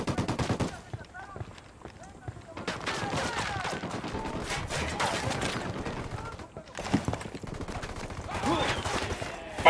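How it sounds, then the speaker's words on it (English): Rapid gunfire crackles in bursts during a Ghost Recon Wildlands match, with automatic rifle fire rattling repeatedly alongside voices talking. "I'm shooting these fuckers."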